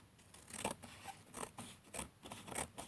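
Scissors cut along a straight edge to trim a strip for a AAA to AA battery adapter, with a steady series of close, quiet snips in an even rhythm.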